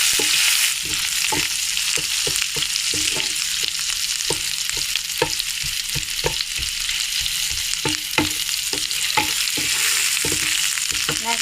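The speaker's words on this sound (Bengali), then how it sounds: "নারকেল দিয়ে একটু ভাজা করে নেব।" Grated coconut fries in hot ghee with a steady close sizzle, while a spoon stirs it in repeated scraping strokes through the pan.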